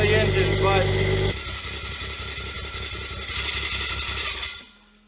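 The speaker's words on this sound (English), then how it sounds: "exhaust sounds pretty good if you get over the fact that there's a screeching metal grinding noise on the front of the engine" A Toyota GR Supra engine runs loud and close, its exhaust note steady while a screeching metal grinding sound rides over it from the front of the engine, swelling toward the end before cutting off.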